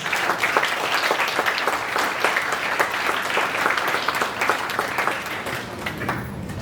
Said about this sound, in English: So let's give all the teachers and parents a big round of applause.